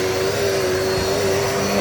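A Dirt Devil multisurface vacuum cleaner runs continuously, a loud, steady motor whine and airflow roar close by, with no talking.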